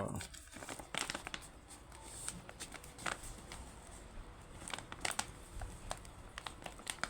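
A coffee packet is torn open at its tear notch, giving close, crinkly rustles and sharp tearing bursts against a quiet room.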